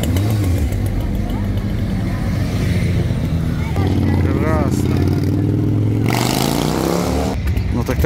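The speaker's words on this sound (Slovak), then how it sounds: "Stále idú tie motorky a stále idú." Motorcycle engines rumble and rev steadily as bikes roll past one after another at a first-mile motorcycle event in Liptovský Mikuláš, a continuous loud drone with a rising pass-by whine.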